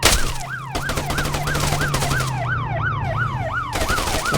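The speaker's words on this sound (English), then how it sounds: "Is that a siren?" Wailing siren in the Arma military video game, a steady rising-and-falling yelp repeating about every half second over a low engine-like drone, loud and continuous throughout.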